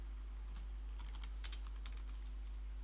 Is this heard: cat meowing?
no